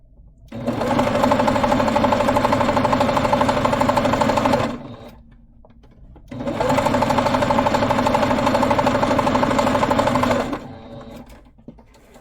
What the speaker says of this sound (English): So I'm gonna go ahead and sew that.